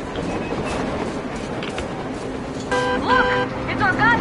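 A passing train in the video game Metro Exodus, a steady rumbling roar with a couple of bright horn-like tones near the end, heard alongside game voices.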